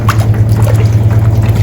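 Water trickles and sloshes as clothes soak in a basin for hand washing, close and continuous with small drips over a low steady hum.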